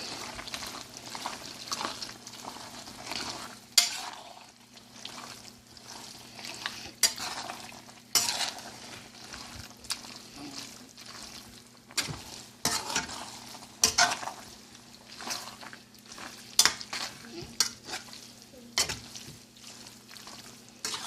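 Sour cream is stirred into macaroni with meat in a pot, giving soft wet squelching and frequent spoon scrapes and knocks against the pot over a faint low hum.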